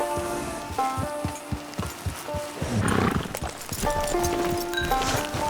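A horse in the online western video game Red Dead Redemption 2 Online trots nearby with steady rhythmic hoofbeats, joined by rumbling outdoor ambience and a brief snort.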